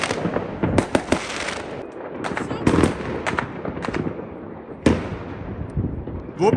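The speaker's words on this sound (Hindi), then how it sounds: "वहां पर भी लोगों ने आतिशबाजी स्टार्ट कर दी है" Fireworks go off in a park behind a home on New Year's, a scattered series of sharp cracks and pops, some in quick clusters, heard from a short distance.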